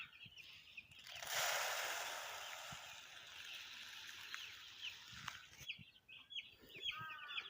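Chickens on a farm clucking while being fed, faint bird calls against a rushing hiss of poured feed, with a few clucks clearer near the end.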